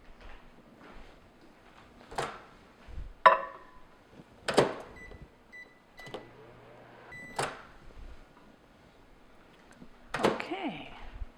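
A microwave oven heats lemon juice and sugar amid kitchen handling: scattered clicks and thunks of door and buttons, a low steady hum in the middle, and a beep near the end, all fairly faint.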